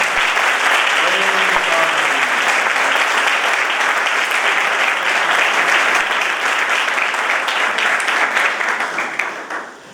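Sustained audience applause fills a church during a sermon, dense steady clapping from a large congregation that holds strong throughout and begins to taper off near the end.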